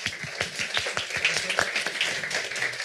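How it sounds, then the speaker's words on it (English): A few people at a panel discussion on health system resilience clap for the panelists. The claps are sparse and uneven, with distinct individual hand claps repeating at a moderate level and no one talking. "thank you so much to all the panelists, and a big applause actually"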